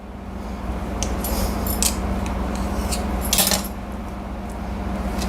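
Snack dough rolled up tightly being sliced into pieces on a kitchen board, giving brief crisp clicking cuts over a steady low background hum, with a couple of louder knife taps near the middle.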